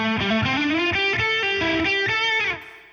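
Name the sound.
electric guitar through OPFXS Twin Boost pedal, distortion and boost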